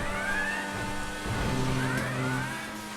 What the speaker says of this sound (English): And I like these new car sounds. It sounds like a Formula 1 car